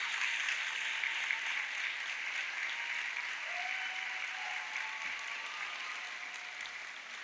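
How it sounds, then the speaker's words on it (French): An audience at the final of a school oratory contest applauds continuously, a dense, steady clapping that carries evenly from start to finish with no voices over it. "Je vous demanderai s'il vous plaît d'accueillir avec un maximum d'applaudissements la jeune fille qui nous vient de Podor, Djenaba Alassane Watt."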